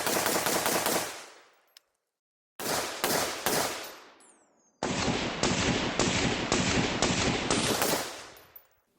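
A PSA Sabre AR rifle fitted with a deflector muzzle brake fires in three loud rapid bursts of closely spaced shots, with short silent gaps between the bursts and the last string running longest.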